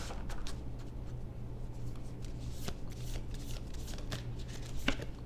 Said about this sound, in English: Let me pull a couple of these Moonology oracle cards to end out this reading.